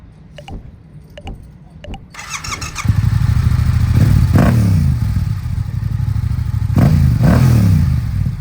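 A Yamaha R7 motorcycle engine idles, then revs hard several times, roaring loud and close with sharp rising bursts.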